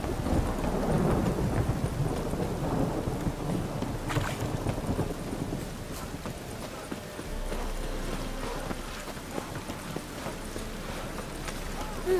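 Video game rain: steady hiss with low rumbling thunder rolling underneath, and a clopping rhythm mixed in throughout.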